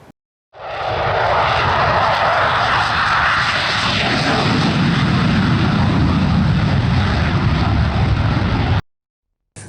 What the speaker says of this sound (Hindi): इंडियन एयरफोर्स ने अंबाला एयरबेस से अपनी 75 एयरक्राफ्ट की एक साथ एलिफेंट वॉक कंडक्ट कराई